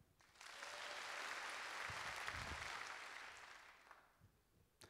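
An audience bursts into applause on cue, a dense, even wash of clapping that swells quickly, holds for a few seconds, then fades away.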